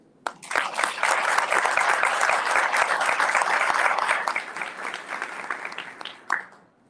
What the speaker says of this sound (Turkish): Bunların hepsine buradan bir alkış istiyorum.